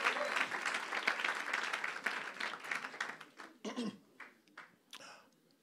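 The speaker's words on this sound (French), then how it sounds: "Acclamez pour vous-même," A church congregation at a French-language worship service applauds loudly and densely, then the clapping thins into scattered claps and a few coughs before fading out.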